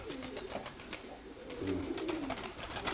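Pigeons in a loft coo in low rolling calls, one after another, close by, with faint chirps and light rustling around them.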